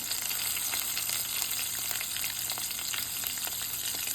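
Ridge gourd sautéing in a pan, a dense continuous frying sizzle with light stirring scrapes, close and steady throughout, no voices.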